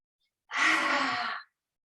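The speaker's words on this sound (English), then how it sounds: "Exhale, stick out your tongue. Let it out." A single forceful yoga exhale, lion's breath style with the tongue out, as a breathy rush of air about a second long, close and fairly loud, cutting off abruptly.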